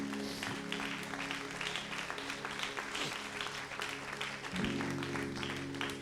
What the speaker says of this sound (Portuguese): E isso merece aplausos ao Senhor,